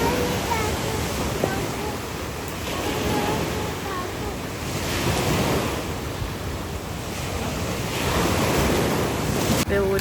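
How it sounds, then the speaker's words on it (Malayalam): Sea waves roll in and break on the shore in a continuous wash of surf, with strong wind buffeting the microphone throughout. "നല്ല തിരമാലയൊക്കെ ഇവിടെ വന്നിരിക്കുകയാണ്."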